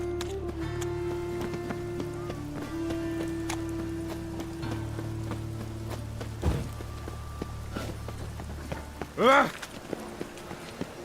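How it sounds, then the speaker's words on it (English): Steady rain falling in The Witcher 3: Wild Hunt, a soft continuous patter under a low game ambience, with a few faint hoof-like thuds and a brief sharp sound near the end. "Rain was coming."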